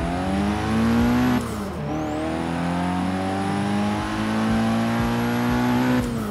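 A sports car's engine in Forza Horizon 3 revs steadily at high pitch, climbs through gear changes with brief dips between shifts, and holds a loud, continuous drone with no voices over it.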